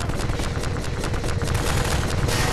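Rapid, dense bursts of gunfire crackle continuously, loud and close, with heavy low-end rumble like automatic weapons, during a Half-Life 2 battle against striders.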